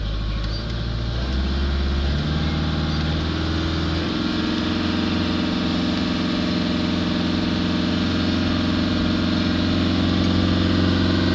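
Toyota Hilux D4D diesel engine held at raised revs with a pedal depressor, a loud steady drone that climbs slightly early on then holds constant, close by with no talking.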